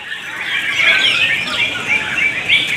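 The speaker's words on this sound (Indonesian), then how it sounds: "seorang kicau mania cari materi burung lomba, di sini tempatnya" Many songbirds sing at once at a bird-song competition, a dense, continuous stream of bright chirps, trills and whistles, close and fairly loud with no talk.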